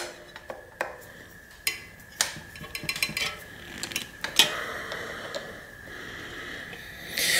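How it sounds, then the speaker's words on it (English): A 5mm Allen wrench tightens the disc brake caliper bolts on a mountain bike fork, with scattered close metallic clicks, ticks and taps at an irregular pace, plus a brief scrape near the end. "use a 5mm Allen wrench to go ahead and tighten them down"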